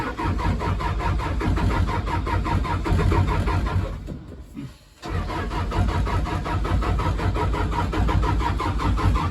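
Digging machine engine cranking and running rough, a loud close rhythmic chugging that cuts out for under a second midway, then resumes its labored, pulsing turnover without settling into a clean idle.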